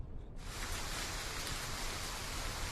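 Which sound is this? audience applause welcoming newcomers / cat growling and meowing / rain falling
rain falling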